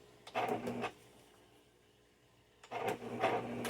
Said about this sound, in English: If I hit slow, it does one stitch at a time.